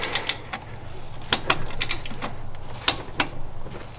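Torque wrench set to 35 foot-pounds clicking on a 2005-2009 Mustang V6 belt tensioner bolt: several sharp metallic clicks and ratchet snaps, close and fairly loud, with no talking.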